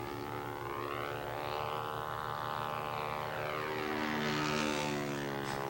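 Light propeller aerobatic plane in a flat spin, its engine drone rising and falling steadily as it rotates, continuous and fairly loud with a droning, siren-like sweep.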